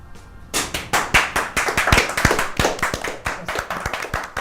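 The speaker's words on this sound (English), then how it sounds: "It's a round of applause to do it too, isn't it?" Applause after a film discussion, a steady run of close, sharp hand claps from a small group, rising in loudness after a brief quiet start and then holding at an even, dense pace.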